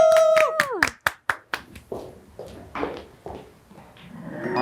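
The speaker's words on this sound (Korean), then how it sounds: "박수." A small group claps in a steady rhythm of about ten sharp claps at a cheer-dance moment, starting over a child's sung tone and fading into softer scattered claps and chatter.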